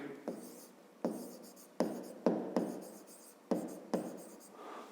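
A pen or pencil scratches across paper in about eight short strokes, each starting with a sharp onset and fading, close and quiet with no voices.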